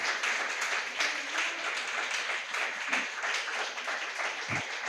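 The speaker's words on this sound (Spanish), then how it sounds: "le pido con todo mi amor que aplaude al Señor por esa acción que hizo en mi vida" Congregation applauding at a Spanish-language church service, a steady wash of clapping from a gathered crowd with no talk over it, sustained at moderate level throughout.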